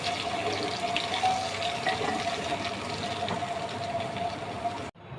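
Tap water runs in a steady broadband rush into a sink while hog plums are washed, continuous and fairly close, ending abruptly near the end.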